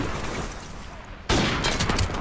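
A sniper rifle fires in Modern Warfare Remastered, one sharp loud shot cutting in abruptly after a low hum, followed by a ringing, crackling tail.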